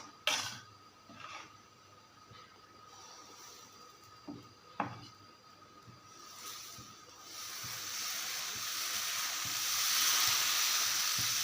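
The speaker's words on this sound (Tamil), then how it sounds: "இப்போ நம்ம தோசை ஊற்ற வேண்டியதான் கல் வச்சாச்சு நல்லா சூடாயிருச்சு" Dosa batter poured onto a hot griddle, starting with faint scraping and a few soft taps, then a sizzle that swells into a broad, steady hiss over the last few seconds, nearby and without speech.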